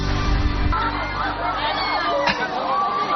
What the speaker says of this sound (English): You can probably hear the screams behind me.